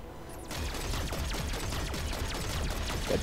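Sustained rapid gunfire from enemies in the video game Recore, a dense crackling fusillade of overlapping shots that starts abruptly and keeps going loud and steady.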